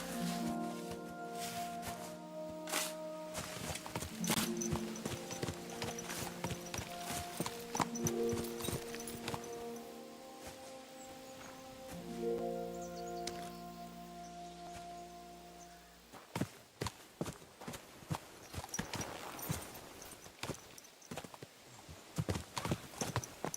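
Horse hooves clip-clop at a riding pace in Kingdom Come: Deliverance 2, a steady rhythmic patter of fairly close, moderate hoofbeats that keeps going under sustained musical tones, with a brief whinny and faint rustling.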